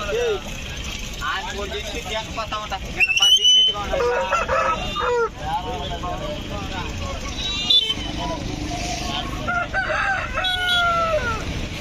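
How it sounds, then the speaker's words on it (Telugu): Roosters, including aseel birds, crow loudly and repeatedly at a busy weekly poultry market in Gudur, with clucking nearby. Crowd chatter, someone talking and passing vehicles run underneath throughout. "ఇక్కడ పుంజులు అనేది అయితే ఉన్నాయి"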